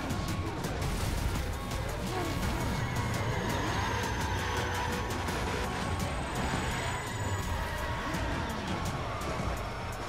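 Car crash noises from the video game The Crew, loud continuous metallic scraping and clattering impacts with engine roar throughout, and a voice speaking underneath.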